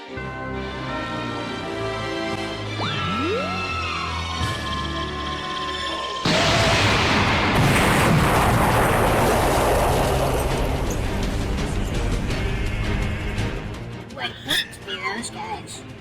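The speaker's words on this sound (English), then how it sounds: "the stock explosion from the SpongeBob episode Dying for Pie is always a pretty funny substitute" A stock cartoon explosion from the SpongeBob episode Dying for Pie bursts midway as a sudden loud, crackling blast that rumbles and fades, following a stretch of cartoon sounds.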